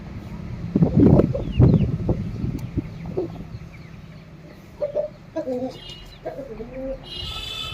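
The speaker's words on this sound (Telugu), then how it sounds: "ఇక చూడండి కోడి గురుకు గురుకు అంటాను" A chicken clucks and murmurs up close in short throaty bursts, with some handling noise and rustling around it.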